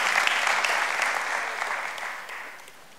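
A church congregation breaks into applause, a broad wash of clapping that starts full and gradually fades away over a few seconds.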